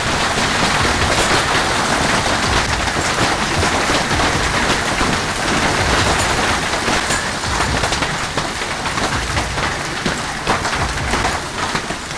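Golf ball-sized hail hammers a house during an Arizona hailstorm, a dense, loud, unbroken roar of impacts that never lets up.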